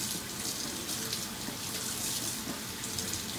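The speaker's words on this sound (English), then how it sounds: "We'll wash my hands real good here." Hands being washed under a running kitchen tap before making macaroni and cheese, a steady close splash of water flowing into the sink with no talking.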